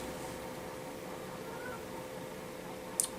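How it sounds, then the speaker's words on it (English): A cat meowing indoors in a room it isn't allowed in, one brief faint high-pitched mew near the end over a quiet steady background hum. "Cats aren't allowed in here, period. And I think he's already in here from the sounds of it."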